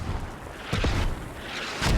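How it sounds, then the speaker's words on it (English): Mortar shells landing in a military shooter game, deep booming thuds, a couple of heavy rumbling impacts over a continuous low battlefield roar. "Mortar's coming down, taking out Alpanex"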